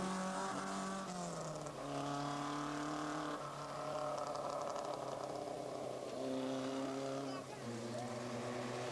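A Nissan rally car at the 1987 Himalayan Rally drives with a loud, steady engine roar that rises and falls in pitch as it shifts through gears, with a commentator talking over it throughout.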